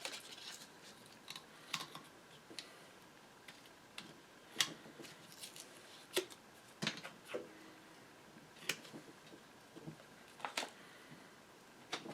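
Scattered sharp ticks and clicks of a blade trimming gasket material for a Model M washer, irregular and close, quiet in a still room.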